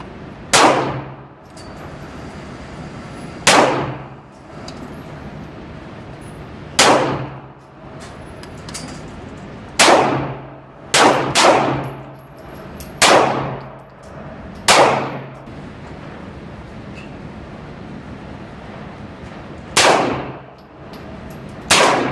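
Handgun fire at a shooting range, roughly a dozen loud, sharp shots with ringing metallic clangs, spaced irregularly a second or few apart, some in quick pairs, over a steady background hiss.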